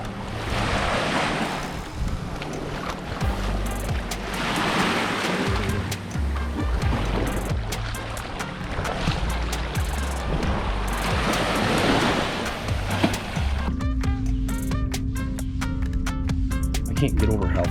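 Steady broadband rush of waves and wind on Eagle Beach during a ride, continuous and fairly loud, with wind buffeting the microphone and a brief tonal hum near the end.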